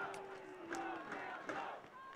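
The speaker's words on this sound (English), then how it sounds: "Crowd getting behind Queens now, really trying to get them back in it." A rugby crowd at a university semifinal between UBC and Queen's chants and cheers in support of Queen's, a distant, sustained wash of many voices with rising and falling calls.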